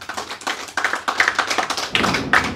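A run of hand claps, slightly uneven and spaced, firm and close, coming in small bursts with brief gaps and no talk over them.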